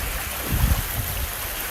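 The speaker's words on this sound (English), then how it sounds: "This is the waterfall level" A small waterfall spills in a steady, hissing flow, with a brief heavier gush partway through, close and alone.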